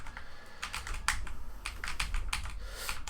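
Rapid computer keyboard key presses during video game play, an uneven rattle of clicks in bursts, close and clear with no talking.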